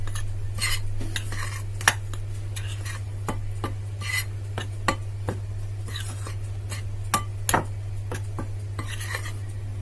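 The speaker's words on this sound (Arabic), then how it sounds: "هقلب المواد دي كلها على بعضيها كده بالشكل ده" A spoon stirs cake batter ingredients together in a bowl for a semolina basbousa cake, making repeated scraping clinks against the bowl over a steady low hum.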